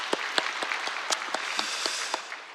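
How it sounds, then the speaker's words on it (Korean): Scattered claps from a church congregation at an early-morning Thanksgiving prayer service, separate sharp hand claps landing irregularly over a soft background of clapping. "우리 감사의 박수 올려드리죠"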